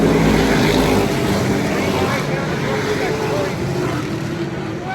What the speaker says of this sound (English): The street stocks come back to green flag racing